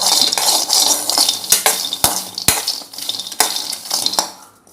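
Peanuts dry-roasting in a pan, stirred with a metal spoon: a bright rattling, crackly hiss with sharp clinks of spoon against the pan at irregular intervals, close and loud, with no voices.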